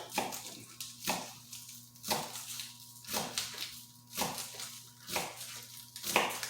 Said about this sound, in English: Now, we're just going to cut up some green onions.